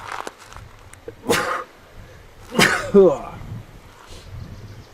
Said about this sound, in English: and a sneeze